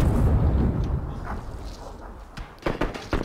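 A grenade in PUBG sets off a deep, rumbling blast that is loud at first and slowly decays, followed by a few sharp thumps and pops near the end.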